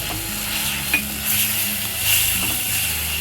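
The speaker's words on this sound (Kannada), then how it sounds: "ಈಗ ನಾನು ಟೊಮೆಟೊ ಪ್ಯೂರಿ ಹಾಕೋತಾ ಇದ್ದೀನಿ" Tomato puree fries in a pan to cook off its raw smell, a loud continuous sizzle and hiss close up, with a few light utensil scrapes and clinks as it is stirred. No one speaks.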